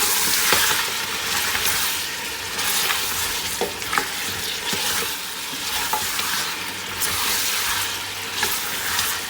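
Coarsely pounded green chili paste fries with mutton paya in a pot, giving a loud, constant sizzle broken by the scrape and clatter of stirring.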